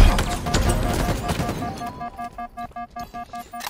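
Halo Infinite gunfire in an online match: a dense burst of overlapping shots and booms gives way to a steady, evenly spaced rapid-fire weapon sounding about ten regular pulses, loud and close.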